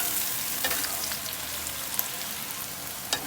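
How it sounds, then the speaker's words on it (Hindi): Onions frying in a pan until brown, for a bhindi (okra) curry, hiss with a steady close sizzle and scattered crackling pops, and no voices. "प्याज को हमने थोड़ा ब्राउन करना है"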